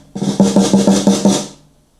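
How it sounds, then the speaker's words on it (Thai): Six evenly spaced snare drum hits ring out one after another, each crisp and bright with a short rattling decay, fading away after the last. "เสียงนี่เสียงสแนร์"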